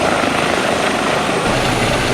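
An EC 135 helicopter in the X-Plane flight simulator flies over Paris, its engine and rotors producing a loud, constant, dense whir and roar that stays steady throughout with no voices.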